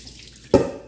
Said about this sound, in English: rinse it off with some water